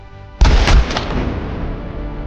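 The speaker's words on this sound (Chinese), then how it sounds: "伴随一声枪响" A single pistol shot in a film rings out with a sharp, loud crack after a short quiet lead-in, then a rumbling echo that decays slowly over the next couple of seconds.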